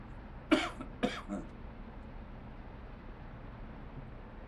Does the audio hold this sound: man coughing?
yes